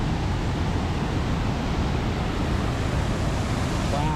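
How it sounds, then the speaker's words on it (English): A fast-flowing river in Grand Teton National Park rushes with a loud, constant broadband roar, close by and unbroken, with no voices over it. "Look at this river. It is coming down quick."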